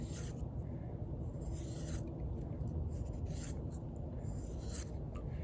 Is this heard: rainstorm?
no